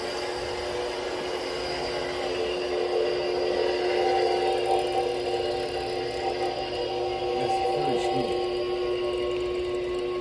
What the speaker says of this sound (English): I can feel the air all the way from over here from that fan blowing up through the motor